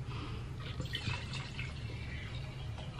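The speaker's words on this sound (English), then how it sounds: "I'm about to pour my last glass of wine." Wine is poured into a glass close by, a soft trickling and splashing of liquid with faint drips over quiet room noise.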